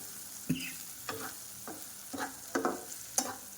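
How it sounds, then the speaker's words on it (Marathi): Green chilies roast in a hot pan for dahi mirchi, a close, steady sizzle broken by about six sharp scrapes and clanks as they are stirred. "मिरची एकदम छान भाजली गेली आहे हे पहा मस्त भाजली आहे"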